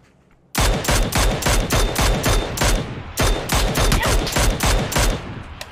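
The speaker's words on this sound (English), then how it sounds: "We're getting sniped at." PUBG video game gunfire on the Miramar map: sudden loud rapid bursts of shots begin after a brief quiet, then continue in fast repeated volleys close by, with no talking.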